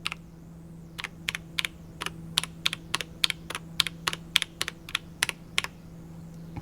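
Rapid, fairly regular clacking of Keychron C3 Pro mechanical keys being pressed one after another while changing lighting modes, close up, with a faint hum underneath.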